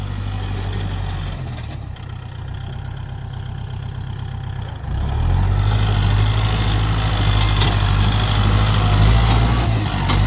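The four-cylinder diesel engine of a used Kubota L4508 tractor idles in a low steady chug, then grows louder and rougher partway through and keeps running.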